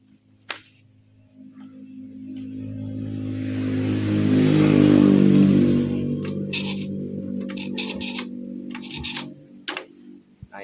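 A motorcycle with an unstable idle and a valve clearance setting problem is kick-started: after a click, the engine catches, swells into a loud running drone, then settles to a steadier idle with sharp mechanical clicks and taps.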